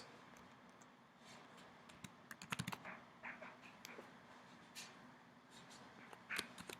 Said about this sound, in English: I'm going to be ready to type in this type box.